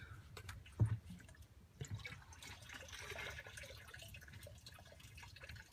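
Coolant drains from the upper hose of a 2000 Dodge 2500 with the 5.9L Cummins engine during a water pump and thermostat job: a faint, steady liquid trickle and splash with a brief knock near the start, and no talking.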